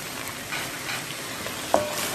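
Onions fry in a hot pan while being stirred, giving a close, steady sizzle with soft scraping and one brief clink of the utensil.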